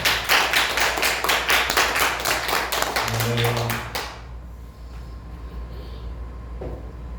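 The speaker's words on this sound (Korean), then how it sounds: "할 때 한번 영광의 박수를 드려보겠습니다." A church congregation claps at a revival service, loud rhythmic clapping that stops abruptly about four seconds in and leaves a quiet room hum.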